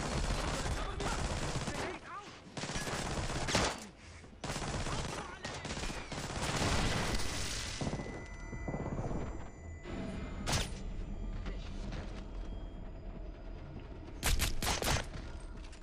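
Gunshots and bursts of rapid fire in the stealth game Splinter Cell Blacklist, fairly dense early and then thinning to a few sharp cracks later, mixed with game effects.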